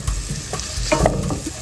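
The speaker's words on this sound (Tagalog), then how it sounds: "At hintayin natin mag-caramelize ang ating sibuyas." Onions cook in a pan for carbonara, giving a steady close frying sizzle with scraping stirs, light clatter and a few brief clinks, and no one speaking.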